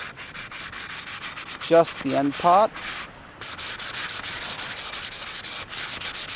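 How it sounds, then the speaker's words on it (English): The trailing edge of a hydrofoil back wing is sanded by hand in quick, rhythmic close rubbing strokes, with a pause about halfway through and some brief speech in the middle. "So I'm just sanding both sides,"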